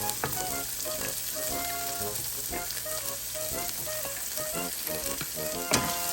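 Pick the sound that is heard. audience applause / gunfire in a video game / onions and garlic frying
onions and garlic frying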